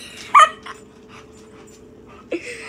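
An energetic dog gives a sharp yip, then faint whines and small sounds, and a second short yelp ends in a rising whimper, all fairly close in a quiet room.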